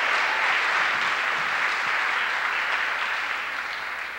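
Sustained audience applause fills a school talent show night, a dense steady wash of clapping at full strength that tapers slightly toward the end, with no talk over it.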